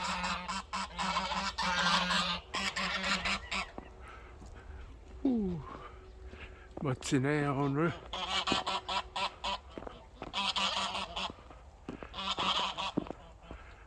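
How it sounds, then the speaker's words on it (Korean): A flock of about nine geese honk loudly and repeatedly at close range on a farm, in bursts of harsh calls, with a person speaking briefly amid the noise. "우리 거의 아홉 마리 거위야"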